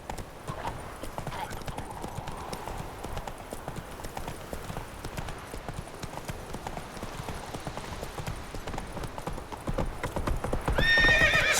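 Roach, a horse in the video game Witcher 3, gallops in a steady rapid clip-clop of hooves throughout, with a whinny, against faint game ambience.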